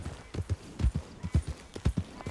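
Horse hooves in Red Dead Redemption 2 clip-clop in a brisk, steady rhythm, close and clear, about a dozen distinct hoof strikes in quick succession.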